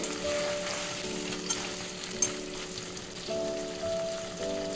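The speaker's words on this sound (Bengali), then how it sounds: "চিকেনটা আমি খুব ভালো করে কষে নিয়েছি, একটু ভাজা ভাজা করে নিয়েছি।" Chicken fries in a pan with a soft, steady sizzle, fairly quiet and continuous, with a low hum beneath and a couple of small clicks.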